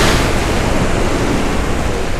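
A heavy, steady splash and rush of water fills the whole stretch as a rocket hits the sea in the video game Kerbal Space Program, loud and unbroken with no voices.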